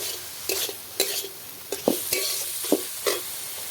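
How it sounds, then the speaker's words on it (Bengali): Fried soybean chunks are stirred into a sizzling spice paste for an egg and soybean curry, with a steady hiss under repeated scraping strokes of a spatula against the pan, about one every half second. "সোয়াবিনের সাথে মশলাটা ভালোভাবে মাখিয়ে নিচ্ছি।"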